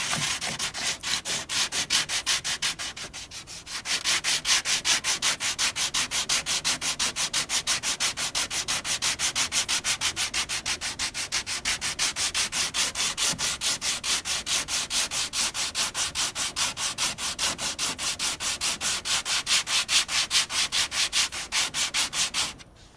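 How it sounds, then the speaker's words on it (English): Steady, continuous abrasive rubbing of a power sander working a fiberglass boat hull, loud and close, with one brief lull near the start. "Alright, back to sanding."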